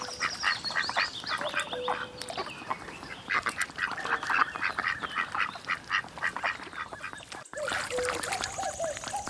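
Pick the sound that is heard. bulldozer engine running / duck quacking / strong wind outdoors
duck quacking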